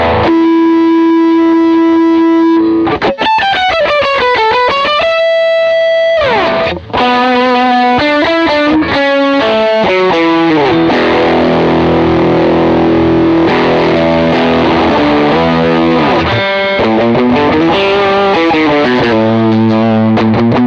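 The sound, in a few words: 1981 dirt distortion pedal playing huge guitar chords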